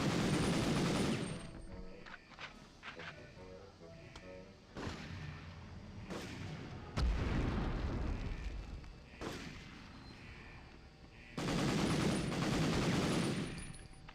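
Bursts of SMG fire in the video game Medal of Honor come in several loud rapid volleys separated by quieter gaps, with a few sharp single shots and muffled battle noise between them.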